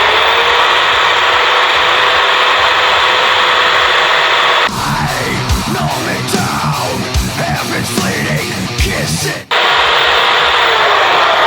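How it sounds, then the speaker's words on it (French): A cheap Finatoc electric drill spinning a small wire brush against a drum ring clamped in a vise, loud harsh scraping and whirring for about five seconds, over a constant background hum. "J'ai pris une petite brosse sur ma perceuse Finatoc pas chère."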